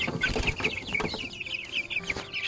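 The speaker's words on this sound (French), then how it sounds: "Regardez tout le monde qu'il y a dans ce poulailler." Young chicks and grown chickens cluck and peep together inside a mobile coop, a dense, close chorus of overlapping chirps and clucks with no one speaking.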